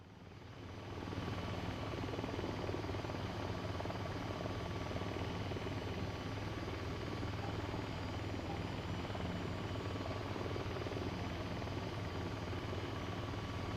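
Helicopter engine in the flight game VTOL VR, a continuous droning rotor whine that swells up in the first second and then holds steady and loud, no voices.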